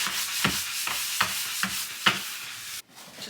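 Rhythmic scratchy rubbing of a sanding block over plastic, four or five steady strokes close by, ending in a brief quiet pause.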